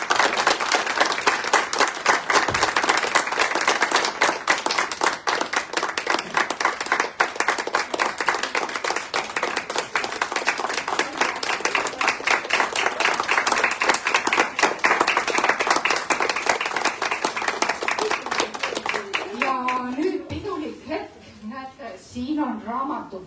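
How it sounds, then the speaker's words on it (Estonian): An audience at a book launch for a handbook for new leaders claps loudly in sustained, rhythmic applause before it fades out, with a voice speaking as the clapping ends. "Helenid väärivad siin suurt aplausi"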